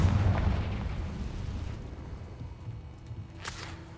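A Confringo blasting curse explodes in Hogwarts Legacy, a heavy low boom that rolls and fades over a few seconds, followed by a brief sharp crack near the end.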